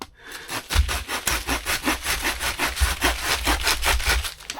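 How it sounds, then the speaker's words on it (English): A handsaw cuts through a thick tree branch at a campsite with a steady, rhythmic back-and-forth rasp, about a dozen even strokes, close and clear. "What the helly, handsaw?"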